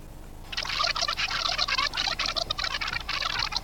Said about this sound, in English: If I continue by adding water, I can eventually build an entire glove of water that will stay fixed to my hand.